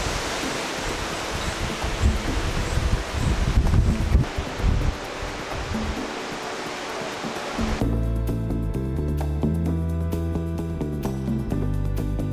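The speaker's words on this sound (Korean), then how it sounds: "와 바람." Wind blows across a trekking trail in Torres del Paine, Chile, a loud, steady roaring rush that gusts and surges for several seconds before dropping into calmer sound with faint tones.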